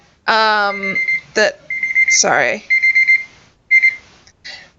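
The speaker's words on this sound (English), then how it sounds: "I've set alarms to watch the press conferences" An alarm clock rings loudly and close in bursts of electronic beeping, starting and stopping in an irregular pattern with short gaps between.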